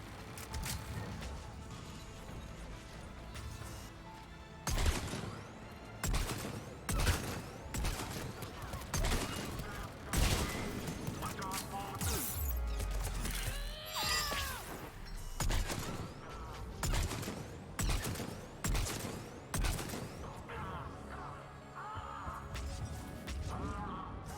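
Gunfire from a weapon in Mass Effect 3 during a combat firefight: a long run of loud, sharp shots in irregular bursts and single cracks, with heavy impacts and clatter between them.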